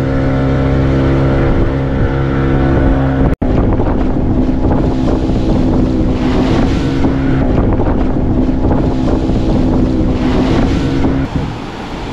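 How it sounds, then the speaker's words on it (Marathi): A large boat motors out to sea off Ratnagiri, its engine a steady close drone with wind buffeting the microphone and water rushing alongside, continuing throughout with one sharp knock partway. "त्या मोठी बोट न्यायची. ती बोट पुढे."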